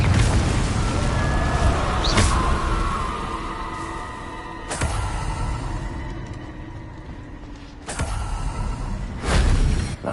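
Confringo spell explosions in Hogwarts Legacy boom repeatedly, several sharp blasts spaced a few seconds apart over a rumbling, creaking backdrop, loud and near.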